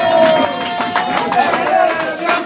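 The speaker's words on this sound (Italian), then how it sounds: "facciamo un applauso" A concert crowd at the Scimmie club in Milan applauds the band's drummer on his 40th birthday, loud, busy clapping mixed with cheers and chatter over a tonal hum from the stage, with voices talking through it.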